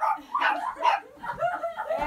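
A dog barks and yips in a quick series of short, close calls, mixed with whimpering over about two seconds.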